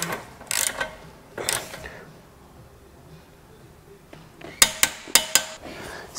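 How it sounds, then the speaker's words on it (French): A motorcycle's lower retaining bolt being tightened with a torque wrench while fitting the silencer: close metallic ratchet clicks in a few short bursts, then a quick run of four or five sharp clicks near the end. "on va serrer donc notre vis de maintien inférieur"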